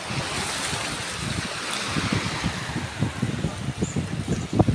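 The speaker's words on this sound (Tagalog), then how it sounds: "Ayan, mga alon. Tubig." Ocean waves wash and splash near a moving boat, a continuous rough swirl of water with wind buffeting the microphone and some irregular splashes building toward the end, fairly faint overall.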